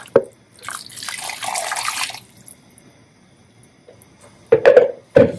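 Water poured from a tap into a cooking pot of stew, a loud splashing stream lasting about two seconds, followed by near silence and a few short clanks and splashes of the pot being handled.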